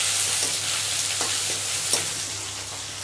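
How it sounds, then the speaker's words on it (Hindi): Chopped onions with dried red chillies fry in hot oil as a spoon stirs them, a steady close sizzle broken by a few soft scrapes, with no talking. "प्याज को भी हम अच्छे से भून लेंगे थोड़ा, तो चम्मच चलाते हुए"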